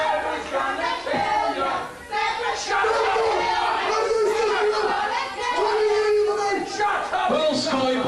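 A pro wrestling audience shouting and cheering together in a loud, continuous roar of many voices, swelling and dipping, with individual yells rising above.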